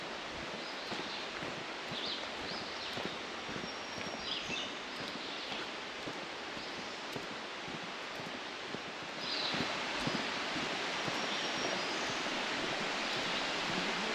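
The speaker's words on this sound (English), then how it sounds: "Like hearing the roar of the water." A mountain stream in the Great Smoky Mountains National Park rushes steadily, a broad continuous roar of flowing water that swells louder near the end.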